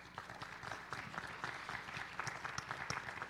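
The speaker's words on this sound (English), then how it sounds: "So let's give those sponsors a round of applause" A forum audience applauds its sponsors with scattered, moderately distant clapping that stays fairly even throughout, faint and without voices.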